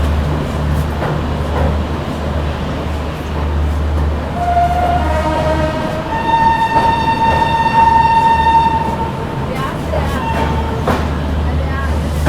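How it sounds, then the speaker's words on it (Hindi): The Shatabdi Express rolls slowly across the Beas river bridge under a speed caution, a loud steady rumble and clatter of wheels with a sustained multi-tone horn blast in the middle and passenger chatter around it. "अभी अपनी शताब्दी एक्सप्रेस क्रॉस कर रही है ब्यास रिवर को"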